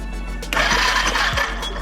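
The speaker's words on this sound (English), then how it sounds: "We're just going to simply start the engine and see if we get a spark right here." A Suzuki GN 250 motorcycle engine cranked over during a café racer build, with the starter whirring in as a loud buzzing burst partway through, close up.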